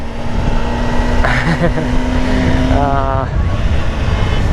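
A new 2025 Kawasaki Ninja ZX10R sport bike engine while riding, a loud steady drone with rising and shifting engine tones over strong wind rumble.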